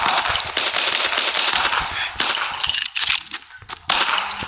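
Rapid bursts of automatic gunfire from the Modern Combat mobile shooter game fire loud and close in quick, crackling volleys, with brief pauses between the strings of shots.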